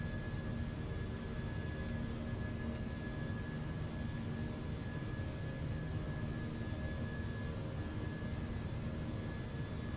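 Concorde jet engines in flight in Microsoft Flight Simulator 2024, a steady, dense roar with a constant tonal hum that holds unchanged throughout, with two faint clicks early on and no voices.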